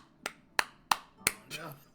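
Four sharp, close hand claps in quick succession, followed by a softer, fuller fifth clap, each one crisp and isolated against near silence.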